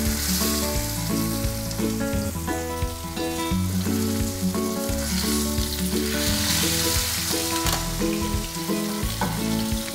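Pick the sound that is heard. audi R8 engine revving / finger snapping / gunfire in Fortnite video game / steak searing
steak searing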